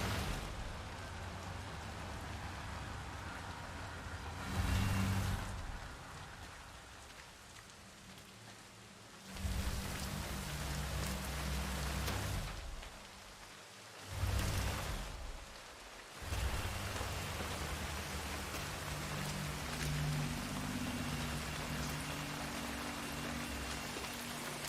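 Steady rain hisses in the video game Hitman 3, a continuous wash of falling water that briefly swells and dips, with low droning tones beneath and no voices.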